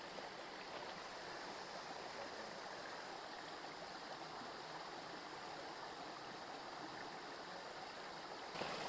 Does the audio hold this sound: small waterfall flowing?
yes